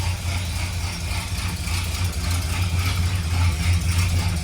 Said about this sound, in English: let's take it out for a spin, Isaac.